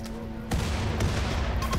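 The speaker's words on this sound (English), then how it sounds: "Oh, there's an explosion." Explosions and gunfire during an assault in the modded colony game Rimworld: a steady low-frequency din of booms with sharp impacts around half a second in, rumbling on loudly until the end with a few crisp cracks.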